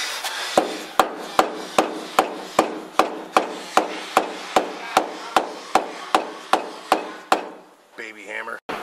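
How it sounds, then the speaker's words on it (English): Small hammer tapping metal parts into place during an independent rear suspension install on a 1993 Mustang notchback with a Coyote engine swap, about seventeen sharp, evenly spaced close strikes, then a brief voice at the end. "Baby hammer"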